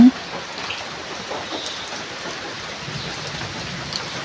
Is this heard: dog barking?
no